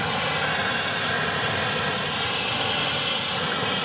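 Airliner engine roar on a flight to Phoenix at Dallas Love Field, a steady, loud, unbroken broadband drone filling the whole stretch with no talking.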